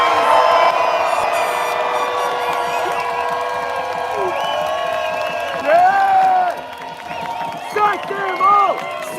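Protest crowd in Sydney cheering, whooping and clapping, a loud sustained roar of many voices with shouts rising and falling, spread wide and continuous, with bursts of whistles and yells near the end.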